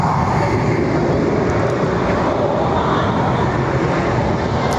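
A Lufthansa airliner departs Barcelona airport bound for Frankfurt, its engines giving a steady, loud broadband roar that holds at an even level throughout.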